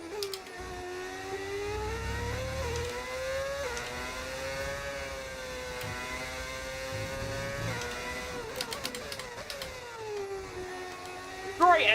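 A Formula 1 car engine in the F1 25 racing game, modeled on a 1993 Benetton, whines steadily at high revs and rises and falls through gear changes, with a short burst of noise near the end.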